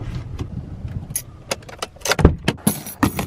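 A bunch of keys is picked up from beside a blue Toyota RAV4, giving several bright, irregular metallic jingles and clinks close by, some louder than others.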